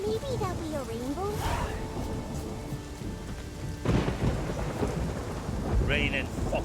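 Heavy rain pours steadily in the video game The Witcher 3: Wild Hunt while thunder rumbles low and long; warbling animal-like calls rise early on, and a brief higher sound appears near the end.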